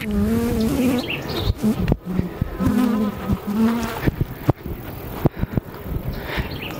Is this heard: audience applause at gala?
no